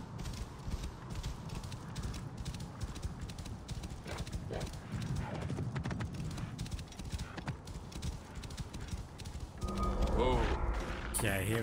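A horse in Assassin's Creed Origins gallops, hooves clip-clopping rapidly in a steady rhythm, with a brief rustle and thump toward the end.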